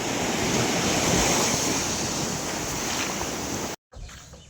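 Sea water washes near the shore in a loud, continuous rush of surf with wind buffeting the microphone, breaking off abruptly near the end before a fainter wash resumes.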